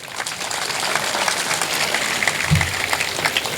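A large crowd of thousands applauds at a Kannada spiritual discourse, giving a dense, continuous patter of clapping at moderate loudness.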